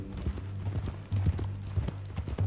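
Horse hooves clip-clop steadily at a walking pace in Red Dead Redemption 2, close and fairly loud over a low hum, with a faint whinny-like sound.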